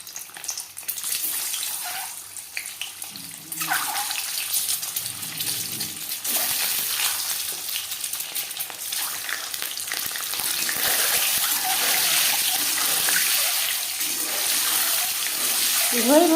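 Eggs hit hot refined oil in a salted wok, giving a loud, continuous crackling sizzle that swells and stays bright, with some low clatter early on and a faint voice underneath.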